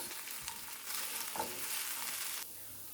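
A filling of peppers, vegetables and sucuk sizzles in a pan for an omelette, a soft steady frying hiss with faint stirring scrapes, quiet and close.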